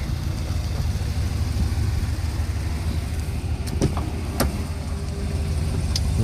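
A white 2015.5 GMC Yukon Denali, started remotely, idles with a steady low engine hum, joined by a few brief sharp clicks and ticks toward the end.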